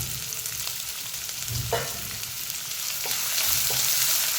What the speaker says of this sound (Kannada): ಈರುಳ್ಳಿ ಚೆನ್ನಾಗಿ ಫ್ರೈ ಆಗಬೇಕಾಗುತ್ತೆ